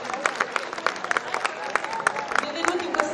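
An audience at an outdoor evening fashion show in a town square claps in a scattered, uneven patter, moderately near, while voices carry over the applause.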